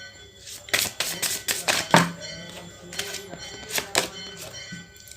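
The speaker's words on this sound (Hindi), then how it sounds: "ओके, इतने सारे कार्ड्स गिर गए हैं। Let me collect." Tarot cards gathered up from the floor after a spill, giving a string of quick, sharp card slaps and taps in loose bursts, fairly close, with quiet talk underneath.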